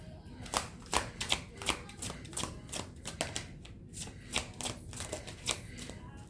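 Tarot cards are shuffled and drawn by hand, a quick run of crisp riffling snaps and slaps at close range, fairly quiet and irregular, with faint talking now and then.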